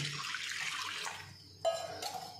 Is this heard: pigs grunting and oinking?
no